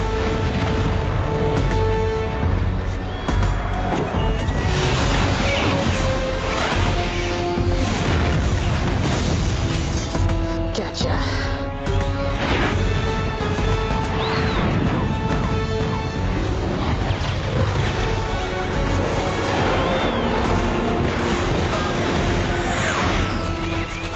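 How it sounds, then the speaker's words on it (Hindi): Explosions, crashes and missile fire from an action movie battle, a dense continuous barrage of booms and smashes layered over a dramatic orchestral score, loud throughout. "जमीन के पश्चिम से मिसाइल फायर हुई है और हमारी ओर आ रही है।"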